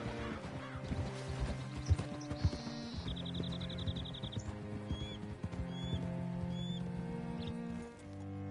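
Horse hooves clip-clopping at a steady walk in a video game western, with soft whinnies, chirping birds and a light ambient music bed.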